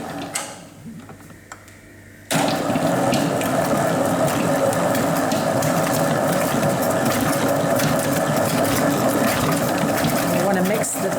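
Up close, an electric mixer whirs steadily as it beats butter, sugar and cocoa powder for gluten-free Afghan biscuits, jumping sharply louder a couple of seconds in and holding a dense, constant churning drone.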